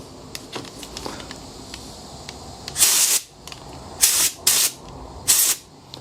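Land Rover pick-up windscreen washer jets, one of them blocked, spray in four sharp hissing bursts up close, each lasting about half a second, after a quieter stretch of small clicks.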